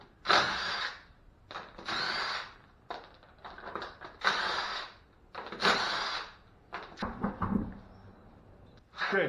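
Impact wrench working on steering parts of an OBS Chevrolet Suburban: intermittent close bursts of rattling, hammering tool noise, separated by short pauses and handling clatter.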